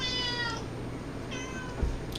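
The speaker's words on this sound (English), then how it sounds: "Yoshikage Kira, put your cat away" A cat meows twice, a drawn-out tonal cry followed by a second shorter one, fairly faint over a steady low background hum.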